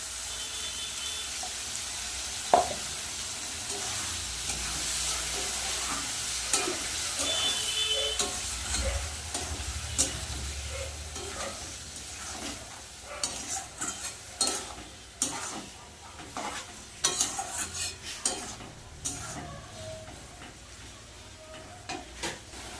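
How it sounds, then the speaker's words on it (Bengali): Ground paste of garlic, onion and dried red chilli sizzles in a pan with fried onion and shrimp, with steady frying crackle broken by repeated spoon-stirring scrapes and clicks, close and fairly loud, no voices. "পেঁয়াজ আর চিংড়ি মাছ ভাজা হয়ে গেছে তো বেটে রাখা মশলাটা দিয়ে দেবো"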